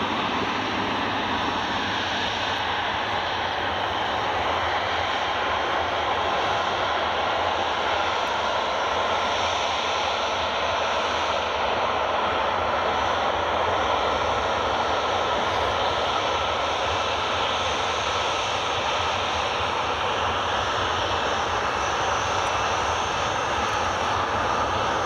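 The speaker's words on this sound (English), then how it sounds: "There we go, there's Jet2 738 just taxiing out now" A Jet2 Boeing 737-800 taxis out at Glasgow Airport, its engines giving a steady, loud broadband roar and whine that holds level throughout with no voices.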